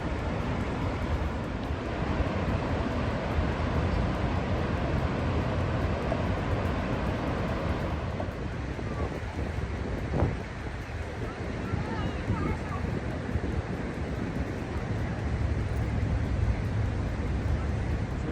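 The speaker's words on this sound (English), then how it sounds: "it seems like a pretty powerful waterfall, especially this side of it, right? Look at that water just gushing down" Powerful waterfall at Banff, Alberta, gushing down in a steady, dense roar that fills the whole clip, with people talking over it.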